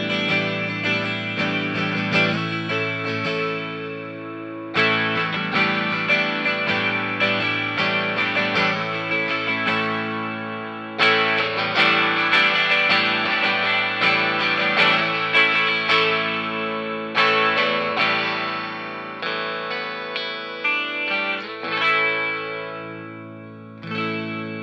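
Rickenbacker 360/12C63 12-string semi-hollow electric guitar played through the bridge pickup blend, ringing jangly strummed chords with effects, loud and alone, with several fresh attacks over about twenty-five seconds.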